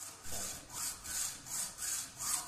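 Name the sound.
sawing along marked lines while making a stirrup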